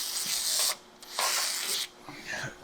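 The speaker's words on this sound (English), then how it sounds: "I'm just gonna spray a pile of WD-40 in there." WD-40 lubricant is sprayed into the shifter mechanism of a tank in bursts: two long hissing sprays, then a shorter one, fairly close and moderately quiet with faint mechanical clicks between.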